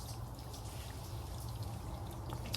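Water pouring steadily into the cooling system of a 2003 Subaru WRX bugeye, a faint continuous trickling splash with no voices.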